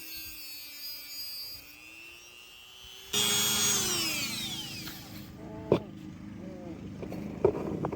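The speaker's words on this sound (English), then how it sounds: "So I just broke out the Dremel and cut off another millimeter or so" A Dremel rotary tool cuts a metal bracket from a Yamaha Blaster, a high-pitched whine dipping and rising under load, then louder grinding with short sharp bursts near the end.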